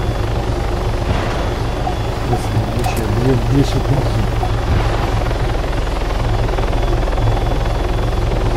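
A helicopter in the video game ArmA, its rotor and engine drone loud and constant with a steady low thrum, while someone speaks Russian over it.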